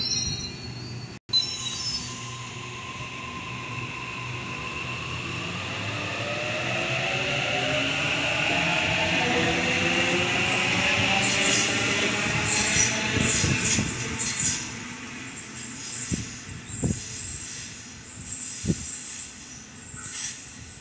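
A train pulls into station platform 2 at Waverton, its rising rumble building steadily with wheel squeal and rail noise, then sharp clanks near the end as it slows alongside.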